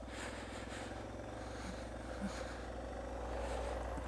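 Suzuki DR650 dual sport motorcycle trail riding in first gear, a steady, fairly faint engine drone with a low throbbing pulse and slight rises in revs.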